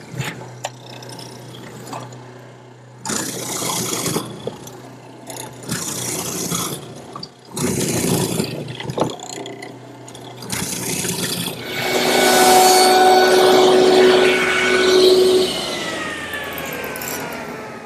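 Mortises being cut in wooden nightstand legs, with bursts of loud machine cutting separated by pauses, then a sustained whining mechanical run with tonal squeals near the end.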